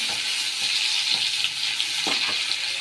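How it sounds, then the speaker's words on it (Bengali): Onions frying in a kadai for chilli mushroom, a steady close hiss of sizzling oil broken by a couple of brief stirring scrapes near the end. "এবার এই পেঁয়াজগুলো একটু ভেজে নিই"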